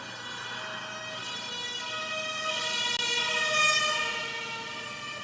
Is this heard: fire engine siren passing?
yes